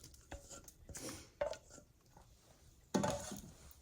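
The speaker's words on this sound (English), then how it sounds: "And then add the potato and onion to about 2/3 of the pan." Potato and onion tipped into a hot oiled pan, giving a few short clattering impacts and brief sizzling bursts, the loudest near the end, with quieter gaps between.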